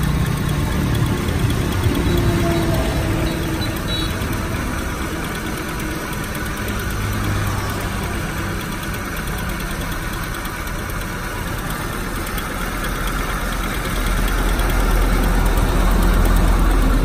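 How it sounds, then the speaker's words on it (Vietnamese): A 2009 Chevrolet Spark with a 0.8 petrol engine and manual gearbox idles steadily under the open bonnet, a continuous, even engine hum with light mechanical rattle, recorded up close. "máy nổ rất êm anh em nhé"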